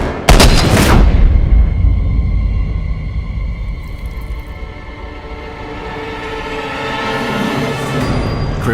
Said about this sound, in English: And as you might expect for Superman, it's basically a simple case of shooting him with a kryptonite bullet